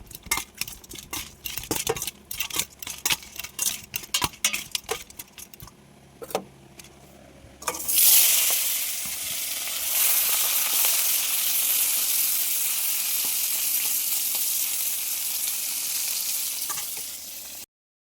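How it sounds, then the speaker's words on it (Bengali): Koi fish sizzling as it fries in a pan, a loud steady hiss running for about ten seconds after a stretch of clinking utensils and handling noises. "আর দিকে লবণ হলুদ দেওয়া গেছে, মাছটা ভেজে নেবো"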